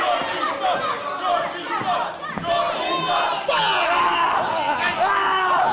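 A wrestling crowd at an Irish Whip Wrestling show roars and chants loudly and continuously during a Chad Collyer match, dense shouting voices with a commentator speaking over the noise.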